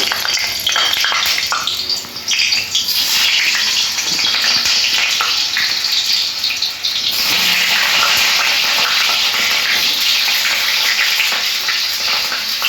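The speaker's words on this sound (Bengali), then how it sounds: "তেলের মধ্যে নাড়াচাড়া করে আলু টুকরোগুলো একটু লাল করে ভেজে নেব" Potato pieces frying in very hot mustard oil in a kadai, a loud, dense, continuous crackling hiss close up, with brief stirring disturbances and no talking.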